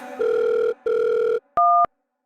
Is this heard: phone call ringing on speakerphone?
yes